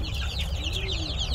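A flock of chicks and chickens peep and cluck continuously, with overlapping high chirps over a low steady rumble of background noise.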